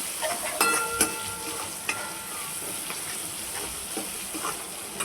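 A spice mixture of Kashmiri chili powder and coriander powder sizzles and hisses in a hot pan while a spoon stirs and scrapes it, with scattered clinks over a steady frying hiss.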